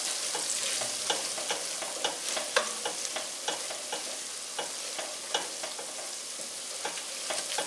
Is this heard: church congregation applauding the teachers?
no